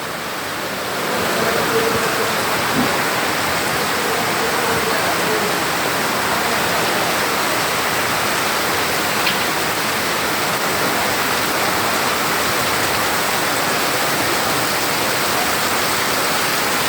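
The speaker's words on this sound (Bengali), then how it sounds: "শাটার পানি আসতেছে।" Rainwater pours off a shop shutter at a market, a loud steady rushing splash that holds unbroken and close for the whole stretch.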